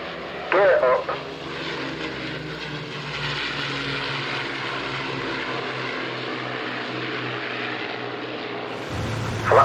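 The piston engines of an Avro Lancaster bomber run at climb power, giving a steady, loud droning roar. Brief radio-like voices are heard near the start and end.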